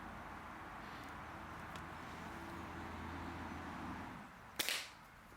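A catapult round strikes a target once, a sharp close crack with a brief rattle, after several seconds of steady low hum and outdoor rumble.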